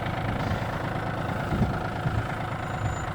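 A Yanmar AF24 24-horsepower small diesel tractor engine idles steadily and loudly close by, a constant low rumble with no talking.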